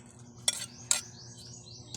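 Ginataang langka, jackfruit cooked in coconut milk, being stirred in a pot: two sharp, close spoon clinks against the pot about half a second apart, over a quiet background.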